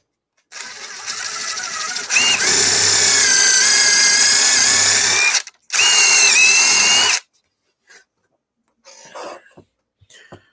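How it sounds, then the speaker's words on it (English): A power screwdriver drives screws in two loud whirring bursts, the second briefly dropping in pitch as a screw seats, followed by faint handling noises. "I need my this screwdriver, this screw thing. Putting in the last of the"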